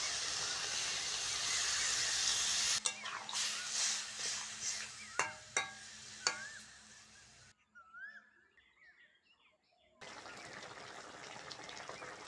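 Water pours into a pan of sizzling spiced cauliflower and potato curry: a loud sizzling hiss gives way to bubbling bursts and spatters, then quiet stirring before the sizzle returns.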